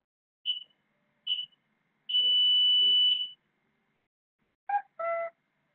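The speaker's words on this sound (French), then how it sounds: "là je reçois une notification en même temps" Short electronic beeps from a Climax Vesta alarm system's phone app notification: two brief chirps, a longer sustained tone, then a quick two-part chime, clear and close with no talking.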